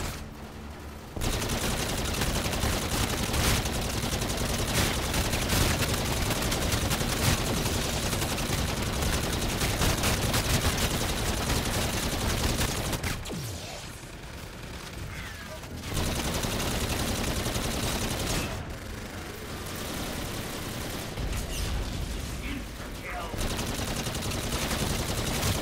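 Heavy, continuous machine gun fire in Infinite Warfare Zombies on the Beast From Beyond map, loud and nearly unbroken, with two short dips in intensity before the shooting resumes.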